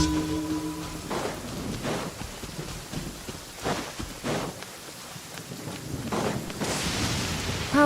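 Rain patters steadily in the game Genshin Impact while rolls of thunder and gusts swell and fade in repeated waves, with faint musical chimes at the start and end.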